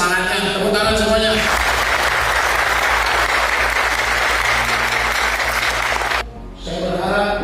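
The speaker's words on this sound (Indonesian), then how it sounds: "Tepuk tangan semuanya" Sustained applause from a gathering of Brimob police personnel in Aceh, a dense wash of clapping filling several seconds and then cutting off abruptly, with a voice briefly audible before and after.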